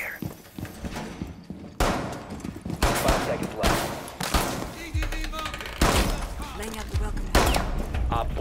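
Gunfire bursts in the tactical shooter game Rainbow Six Siege, several loud broadband volleys in quick succession among game clatter and effects.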